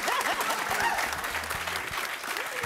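Studio audience clapping for a couple, a dense, continuous burst of applause close by with a few whoops rising through it.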